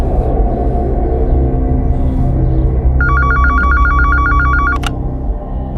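A telephone rings with a rapid, repeated electronic trill for about two seconds, loud over a steady background hum, as a call is placed to Sarvakripa Hospital.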